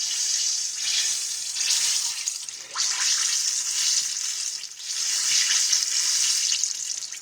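Peach pies fry in hot grease with a loud, bright, continuous sizzle that swells and dips in waves, close by and with no talking.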